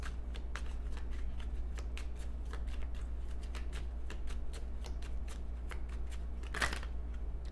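A deck of tarot cards is shuffled up close, producing quiet, rapid papery riffles and flicks in a steady rhythm, with one sharper slap near the end, over a low hum.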